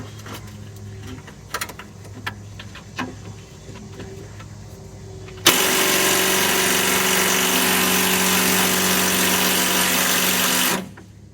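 Air impact gun loosening tight bolts on the idler arm of a Cutlass: quiet workshop ticks and taps, then a loud, steady, high whirring burst of about five seconds that cuts off sharply.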